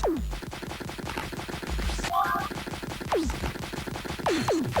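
Rapid, repetitive gunfire effects from the platform video game Zool fire continuously, with falling zapping swoops cutting through the dense stream of shots.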